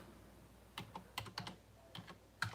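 Scattered keystrokes on a computer keyboard, a handful of light clicks in an uneven rhythm that pick up after a quiet start, set against faint room noise.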